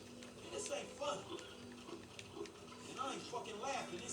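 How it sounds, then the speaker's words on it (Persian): Pig oinking in GTA V, a few short grunting snorts scattered through the stretch over a low game ambience, with some speech-like sound mixed in. "تبدیل خوک شدیم"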